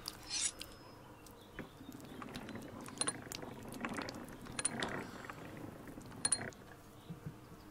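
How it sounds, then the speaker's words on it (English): Honey extractor in the beekeeping game The Beekeeper's Picnic whirs and clicks as it spins a full hive tray, a steady ratcheting, gear-like rattle with scattered sharper ticks and a faint insect-like buzz, no talking. "So I can put the full hive tray into the extractor"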